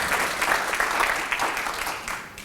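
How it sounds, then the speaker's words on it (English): Audience applause at a tule elk celebration event, a dense, steady round of clapping from a gathered crowd, continuous and fairly loud for a couple of seconds. "So one more round of applause for Julie Phillips, please."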